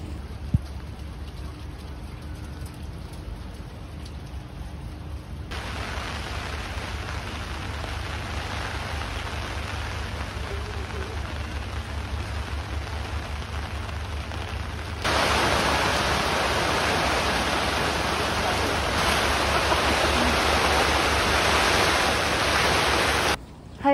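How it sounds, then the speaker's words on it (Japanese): Heavy rain pours down at an outdoor festival stall during Golden Week, a dense, steady hiss that grows louder partway through and continues without talking. "さっきまでちょっと大雨すぎて今はもう止んだんですけれど"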